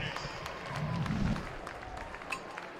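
Crowd applause for athlete Zamari Sanders at an outdoor track and field nationals meet, with a spread-out, moderate clapping swell from the stands and voices murmuring beneath.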